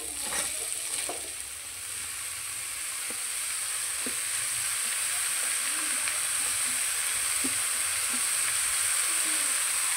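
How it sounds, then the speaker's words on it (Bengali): Chopped bottle gourd goes into a pan of frying ginger and green chilli, giving a steady, even sizzle with a few soft stirring knocks throughout, close and without talking. "কেটে রাখা লাউগুলো দিয়ে দিচ্ছি"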